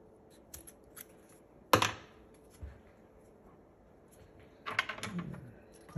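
Material being cut for a Decent Espresso pump regulator mod, giving a couple of sharp, close snips with quieter handling clicks between them, with no talking.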